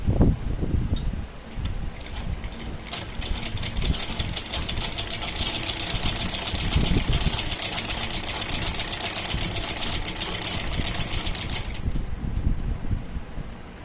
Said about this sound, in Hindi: बिल्कुल बराबर में करते हुए एक सिलाई हम अंदर से लगाएंगे।